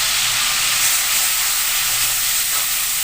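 Onion paste hits hot salted oil for a bhetki fish dish, producing a continuous even hiss of sizzling at moderate volume with no voices.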